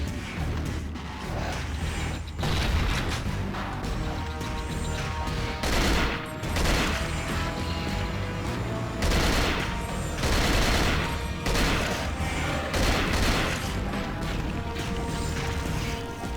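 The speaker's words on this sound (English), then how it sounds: "Zombies with guns?" Gunfire from armed zombies in the survival horror game Cold Fear, with loud, repeated bursts of shots and clanking impacts over a dense, continuous background of game noise.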